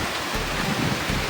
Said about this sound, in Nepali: यस्तो पानी परिरहेछ नि